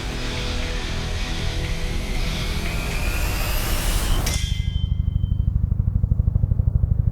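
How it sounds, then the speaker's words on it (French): A Swiss Air Force Eurocopter helicopter passes close with a loud broadband roar, and its rotor settles into a rapid, even thudding beat as the whine fades. "cet hélicoptère polyvalent et très maniable est parfaitement adapté aux conditions de vol dans les Alpes suisses"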